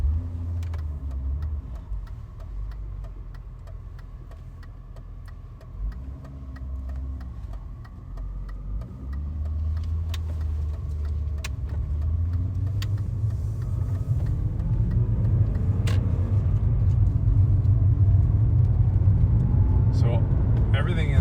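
A 2001 BMW M5 engine hums steadily while driving down a highway through the gears, rising in pitch as it accelerates toward the end, with a faint ticking and someone talking.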